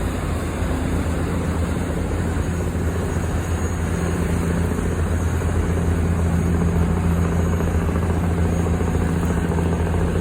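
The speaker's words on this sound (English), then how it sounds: "hear the diesel motor? That's pretty high RPM for a diesel motor." A boat's diesel engine runs at high RPM on a river in Bangkok, Thailand, giving a continuous, steady drone with a rough low rumble and no pauses throughout.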